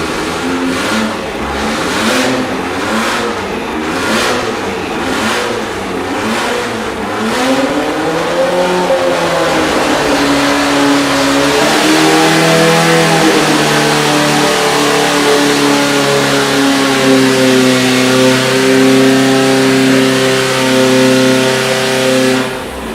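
A Volkswagen engine revs hard at the EMPI engine battle, a loud, continuous roar whose pitch rises and holds for over twenty seconds, heard up close with no talk over it.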